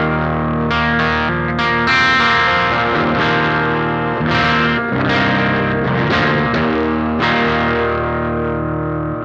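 An electric guitar played through the Electrojunk Cross//Dissolve drive pedal with the gain set low, giving a mildly driven, unaggressive tone; sustained strummed chords ring out loud and steady with no one talking.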